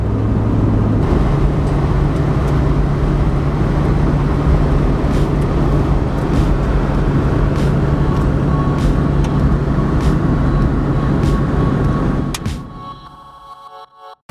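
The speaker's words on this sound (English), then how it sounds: "So we're gonna run some gravel roads, try to stretch the suspension out" A Toyota FJ Cruiser with a TRD suspension lift drives over gravel roads, its engine drone and tyre rumble loud and steady inside the cabin before dropping away abruptly near the end.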